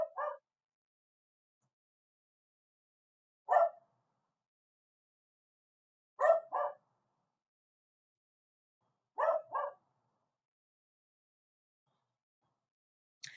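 A neighbouring dog barks in four separate bursts, single and double barks spaced a few seconds apart, fairly faint and distant against silence.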